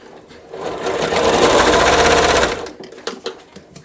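A sewing machine runs in one steady rapid burst lasting about two seconds, stitching quilt block pieces such as half square triangles and four-patches. Loud and close, it is followed by a few clicks and handling sounds.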